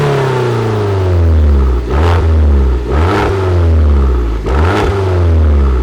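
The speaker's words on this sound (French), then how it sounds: "Doté d'une sonorité envoûtante, ce moteur possède sur l'Abarth Punto Evo une cartographie spécifique." Abarth Punto Evo 1.4-litre MultiAir turbo petrol engine, rated at 165 hp, revs up repeatedly, with three sharp throttle blips rising and falling over a steady idle. The sound is loud and close, with no talking.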